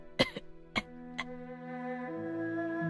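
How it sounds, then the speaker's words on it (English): An elderly grandmother character in a Ming-dynasty video game coughs three times in short, separate bursts. A sustained musical tone plays underneath and swells afterward. "Suddenly, I heard my grandma coughing."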